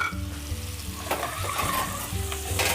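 Thyme sautéing with caramelized onions in a hot pan, a continuous, close and fairly loud crackling sizzle with scraping stir strokes over a low steady hum.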